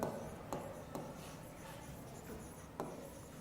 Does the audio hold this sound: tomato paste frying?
no